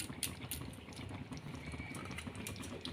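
Green masala egg curry gravy simmering under a lid, a steady low bubbling and crackle that continues evenly throughout at moderate volume, with no voices.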